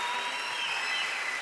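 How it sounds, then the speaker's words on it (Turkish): A studio audience at the O Ses Türkiye singing competition gives dense, even applause for a moment, a continuous wash of clapping with no voices over it. "Alkışlar Saadet için"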